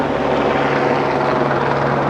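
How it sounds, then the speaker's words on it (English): A helicopter flies overhead, a loud, steady, close rotor drone with a low hum underneath, filling the whole moment without pause. "Bloody noisy helicopter."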